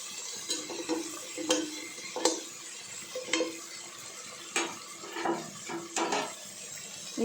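Food is sautéed in a pan for kuska biryani, with a soft frying sizzle beneath repeated close scrapes and clinks of a spoon stirring, the strokes coming in irregular bursts with no talking.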